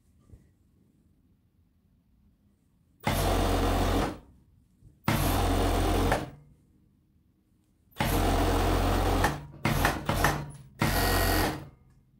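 A sewing machine stitches the back seam of a tracksuit in several loud, close bursts of rapid whirring, each a second or two long and separated by quiet pauses, with a few short stuttering runs near the end.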